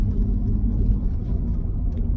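A Lexus IS300 engine revs high in its upper range, a steady, loud, close rumbling drone with no talk over it.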